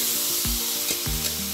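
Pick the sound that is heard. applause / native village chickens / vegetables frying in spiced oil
vegetables frying in spiced oil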